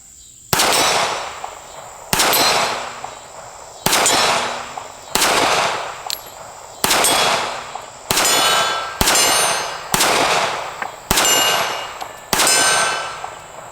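Eight shots from a Smith and Wesson Bodyguard 380 micro pistol crack at a steady pace, each followed by the bright metallic ring of a steel target, loud and close with no talk between them.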